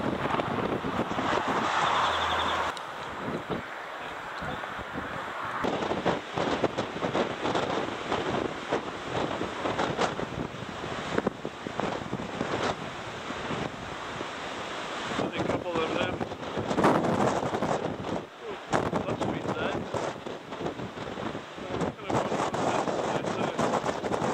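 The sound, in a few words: wind at the 12 Apostles lookout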